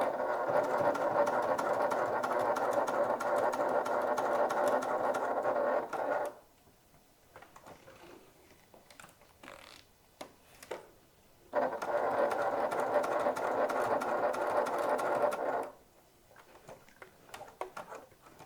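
A sewing machine stitches a top handle bag in two steady runs of rapid, even mechanical ticking, each lasting several seconds, separated by a quiet pause with faint handling clicks.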